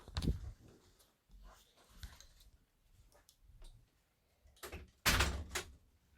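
A swing door knocks and bumps as it swings back and forth, a series of uneven thuds and rattles ending in one louder, sharper bang near the end.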